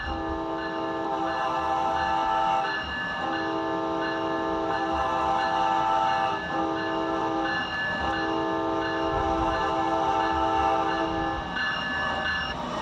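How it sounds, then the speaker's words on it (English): A train horn blares continuously for several seconds, loud and close, with steady rumbling of the train beneath it. "let's test out its horn"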